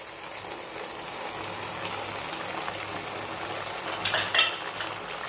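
Ground masala and onion for a village-style mushroom masala sizzle quietly in a pan, a faint steady frying hiss with a few stirring scrapes near the end.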